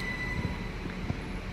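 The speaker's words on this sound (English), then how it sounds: "my train has just arrived and I've got to get on the train" A train arrives at a station with a steady low rumble of rolling railcars, a faint high squeal and occasional soft clunks, heard alone at moderate distance.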